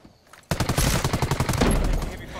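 Heavy rapid-fire shooting in the tactical shooter Ghost Recon Wildlands, a sudden onset followed by a steady stream of evenly spaced loud shots over about two seconds.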